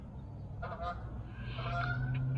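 A flock of geese honking as they fly off a lake in the evening. Two bursts of overlapping honks ring out at moderate distance over a steady low background hum.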